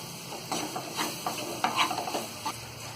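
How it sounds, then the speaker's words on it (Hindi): Moong dal with garam masala and salt being roasted in a pan over medium flame, with a steady dry sizzle and repeated rhythmic scraping strokes of a spoon stirring through the mixture, close and clear. "इन सारी चीजों को अच्छी तरह हम भून लेंगे।"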